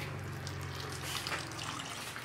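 Water pours in a steady, continuous rush for about two seconds at a small roadside samosa stall run by an elderly man, as flour dough is being prepared.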